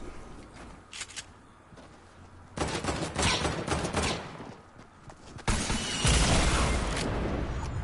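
Gunfire and a rocket blast from a Fortnite match: a quiet opening with a few scattered shots, then dense bursts of rapid fire and heavy booming near the end, loud and close.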